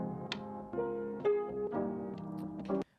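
A music passage in FL Studio processed with the Cymatics Deja Vu halftime plugin: dense, slowed-down chords and drum hits for a few seconds, cutting off abruptly at the end.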